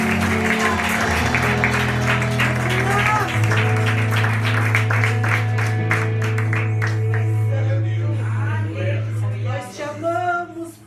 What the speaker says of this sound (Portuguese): E as palmas são para Ele.